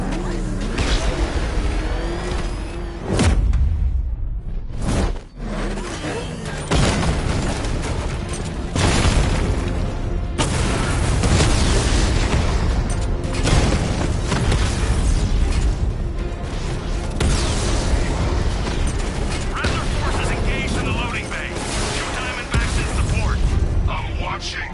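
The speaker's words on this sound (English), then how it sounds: "Your 60mm cannon will penetrate these heavily armored units, but it'll take a few direct hits to destroy them." Heavy 60mm cannon fire and explosions in the video game Batman: Arkham Knight, loud repeated booms and bursts layered over continuous battle noise, with game voices talking throughout.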